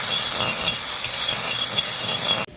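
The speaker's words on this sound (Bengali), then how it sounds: "আঁচিয়ে নিচ্ছি এখন আলুটাকে" Potatoes stirred and fried in oil in a kadai (wok), a steady, loud sizzle and crackle running without a break until it cuts off sharply at the end.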